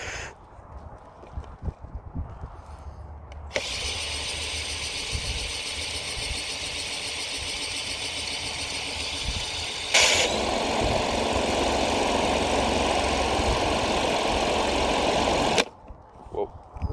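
A spin art machine whirs steadily as it spins thick paint, a loud continuous motor hum that starts after a few seconds, rises in pitch and intensity midway, then cuts off near the end, with people speaking briefly before it starts.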